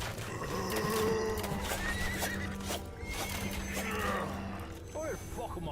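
Horses neigh and whinny amid hoofbeats in a loud video game battle with mounted horsemen, the whinnies repeating over the steady din of combat while someone talks over it.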